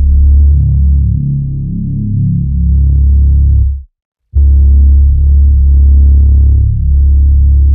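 Heavy, booming bass processed with a Waves plugin plays loudly with a thick throbbing low end, cutting out abruptly for a moment before returning.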